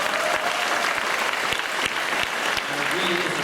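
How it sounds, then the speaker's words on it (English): Applause from a convention audience, dense steady clapping from many hands that fills the space evenly, loud and sustained throughout without a break. "it does deserve an applause"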